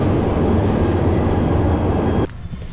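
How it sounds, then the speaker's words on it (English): Glasgow Subway train running loud and steady with a continuous rumbling roar and faint wheel squeal, then cutting off abruptly near the end, leaving a quieter space. "I'm going to go and show you guys what it's like getting on the Glasgow Subway line"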